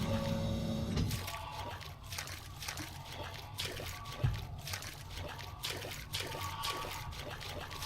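Water sloshes and trickles with repeated soft splashes, steady and close, over a low game background hum, in the video game Lone Water.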